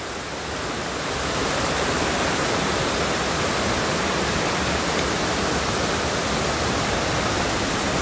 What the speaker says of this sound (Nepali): यो अति सुन्दर झरना चाहिँ यहाँ देखिसकेको छ।